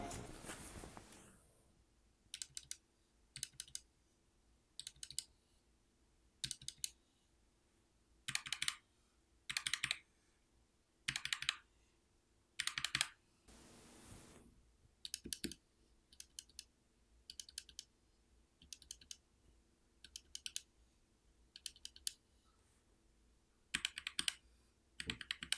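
Bursts of typing on a Hexgears X1 ultra-thin mechanical keyboard with Kailh Choc switches, tested both with and without keycaps. Rapid clicky runs of keystrokes come close and clear, separated by short quiet pauses, with no talking.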